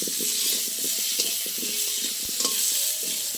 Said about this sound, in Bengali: তেলের মধ্যে আমি খিচুড়ি আলুগুলো ভেজে নেব